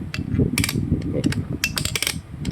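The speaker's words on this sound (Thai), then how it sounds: "คันสตาร์ทต้องดีดกลับนะครับ" A kick-start lever on a Honda NSR150RR lower-end engine being worked by hand, giving a series of sharp metallic clicks and ratcheting snaps close by, over a low background rumble.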